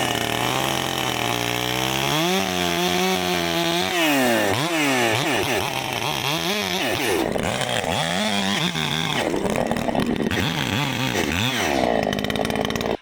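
A chainsaw bucks a firewood log, loud and close, its engine pitch sagging and recovering as the chain bites through the wood, running steadily with no talk.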